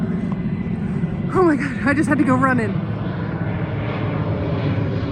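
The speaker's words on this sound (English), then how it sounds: "That's a Navy troop transport, I think." A Navy troop transport airplane passes overhead, a steady broad engine drone running through the whole stretch while an excited, breathless voice speaks over it near the middle.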